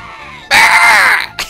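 Gruntilda the witch from Banjo-Kazooie lets out a loud, drawn-out scream that bursts in abruptly, holds for most of a second, then cuts off and briefly flares again.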